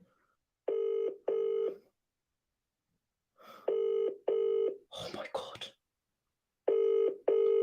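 A phone call rings out unanswered, its paired electronic ring tones repeating at steady intervals, with a voice exclaiming between the rings.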